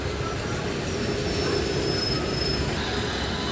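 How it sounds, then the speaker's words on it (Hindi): A departing train rolls along the rails with a loud, continuous rumble and clatter of wheels, plus a faint thin squeal above, heard close and steady throughout. "तो भाई चल दी है ट्रेन"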